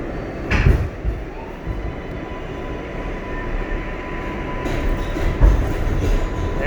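An empty MTA subway train runs at night with a steady rolling rumble and hum, broken by a couple of sharp clunks and rattles from the car.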